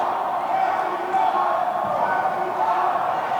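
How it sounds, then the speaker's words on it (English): Mexico team's sideline cheering at a men's playoff dodgeball match at the world championships in Cancun, a steady distant crowd roar under a commentator's voice. "We hear the Mexico sideline cheering."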